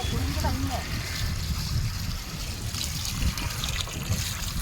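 Water is poured to rinse dried fish, making a steady, close trickle and splash throughout, heard under a person talking.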